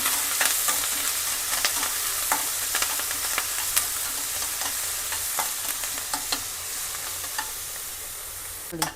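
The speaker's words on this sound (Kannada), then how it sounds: "ಈರುಳ್ಳಿ ಫ್ರೈ ಆಗ್ತಾ ಇದೆ" Finely chopped onion with curry leaves frying in a pan for an ivy gourd stir-fry, a steady crackling sizzle punctuated by frequent spatula scrapes and taps throughout, no one speaking.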